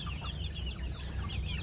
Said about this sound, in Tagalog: may battle crosses, may mga tandang na yan, may mga maliliit na mga manok